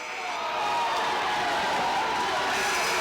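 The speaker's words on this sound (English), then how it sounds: "The Hornet fans applauding." A high school basketball crowd in a gym, Hornets fans applauding and cheering after a technical foul, a broad, sustained roar of clapping and voices that swells and holds steady.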